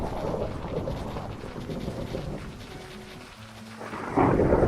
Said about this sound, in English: Oh, that's gonna be a thunderstorm.